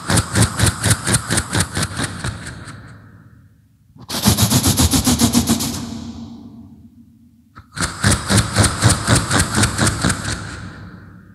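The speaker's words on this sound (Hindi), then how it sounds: "देखिए, सबसे पहले ट्रेन प्लेटफॉर्म पे खड़ी है और डीजल इंजन क्या मूवमेंट कर रहा है" A diesel locomotive idles at a station platform, its engine throbbing in a loud, close, steady rhythmic chug. The sound comes in three long bursts separated by brief lulls, with no voices.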